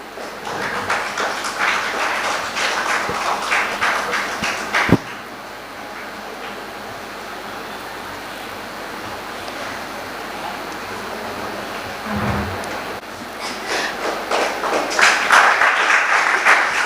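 An audience at a stage felicitation event applauds in two dense bursts, one at the start and a louder one near the end, with a quieter hall murmur between them.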